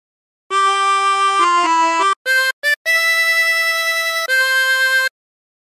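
A 20-hole tremolo harmonica plays a short phrase of Battle Hymn of the Republic: a run of bright, reedy, wavering held notes, several changing pitch, broken by two quick gaps and ending on a long sustained note, close and loud with no voice.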